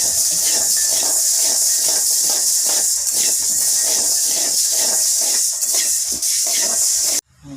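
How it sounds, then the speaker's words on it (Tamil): Finger millet (ragi) roasting in a pan gives a steady, loud crackling sizzle with dense popping textures throughout, cutting off abruptly near the end. "வறுத்து வெடித்து பொரிய ஆரம்பிச்சிருச்சு"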